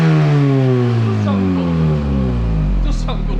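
A supercharged Mini Cooper S R53 revving through a Dorenza exhaust, its engine note swelling and sweeping down in pitch in long, loud pulls close by, with a brief hiss near the end.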